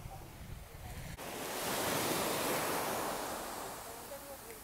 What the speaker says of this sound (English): Another perfect day at Chiquita Beach. Nice and calm today.